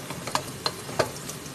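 A spatula scrapes and taps in a pan of frying onion about four times in quick succession, over a soft sizzle, close and brief.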